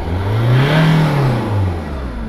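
Ford Mondeo engine given a single quick throttle burst, the revs rising and falling smoothly over a couple of seconds, close and clear with no talk.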